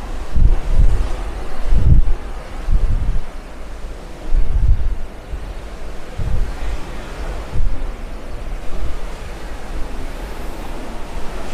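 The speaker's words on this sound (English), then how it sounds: "Love that ocean." Ocean waves rush and break at sea around a Disney cruise ship, heard as a loud, continuous roar of surf with wind buffeting the microphone and low rumbling surges every second or two. No one speaks.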